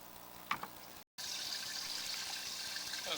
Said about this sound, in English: I'm going to get some extra water running in here and see if that helps us out.